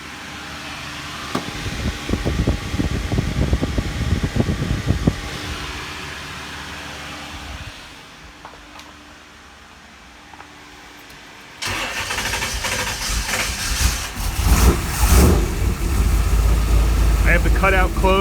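A car engine fitted with Holley Sniper fuel injection and MSD ignition cranks with a rhythmic churning, falls quiet briefly, then catches and runs loudly up close with a rough, uneven roar; speech can be heard.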